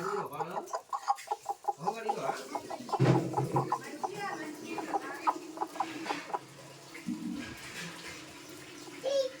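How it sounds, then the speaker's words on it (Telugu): A hen clucks in repeated short, throaty bursts nearby, with uneven pauses and a few louder calls in the middle. "ఈ కోడి మధ్యలో బయటకు వచ్చి ఇలా 21 days తర్వాత కోడి పిల్లల్ని చేస్తుందంట"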